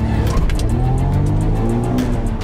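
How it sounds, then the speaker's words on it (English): A small turbocharged Suzuki Cappuccino accelerates hard on a race track, its engine a loud, rough, close drone with a rising pitch and fluttering pulses throughout. "Listen to that little turbo!"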